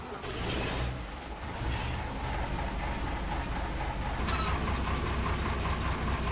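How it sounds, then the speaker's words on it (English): A Fendt Favorit tractor engine in a farming video game mod runs with a steady, loud, rumbling drone that holds evenly throughout, with no voices. "let's start it up. We'll take a listen to the engine."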